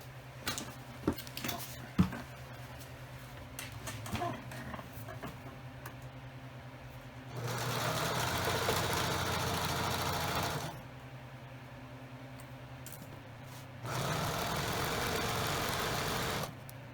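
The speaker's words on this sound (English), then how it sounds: "Time to sew." A sewing machine stitches dark and light boat seat fabric pinned together, running in two long steady bursts of close mechanical whirring with quieter handling noises and pauses around them.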